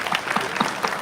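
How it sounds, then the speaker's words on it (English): Audience applause fills a youth summit hall at a national youth festival, a dense burst of many hands clapping for about a second. "it really deserves a huge round of applause from all of us to all of you"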